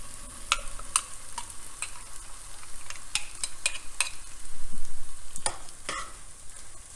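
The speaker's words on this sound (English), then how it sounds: "And just stir it around and get all the tofu covered." Tofu being stirred in firecracker sauce in a pan, with a steady low sizzle and sharp scraping clicks of the utensil against the pan, close and fairly loud, no voices.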